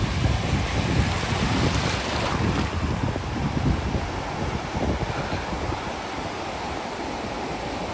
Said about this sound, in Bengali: কে বলে বকখালিতে ঢেউ কম? দুর্দান্ত ঢেউ, দুর্দান্ত।